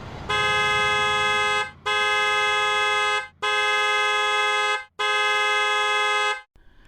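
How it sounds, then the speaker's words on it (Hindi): A car horn blares outside in four long, loud, sustained blasts separated by short gaps, with no talking. "तभी बाहर गाड़ी की आवाज आती है।"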